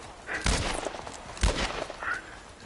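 Gunfire in The Last of Us Part 1 gameplay, two sharp bursts about a second apart with smaller cracks trailing after, fairly close and loud, with no talk over them.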